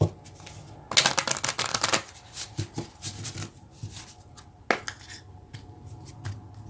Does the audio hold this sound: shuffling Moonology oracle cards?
yes